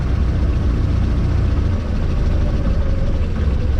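A 1938 Morris Commercial truck engine idles while warming up with the throttle pulled out, a loud, steady low rumble close by with no voices.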